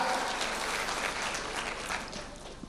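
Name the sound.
applause for Joy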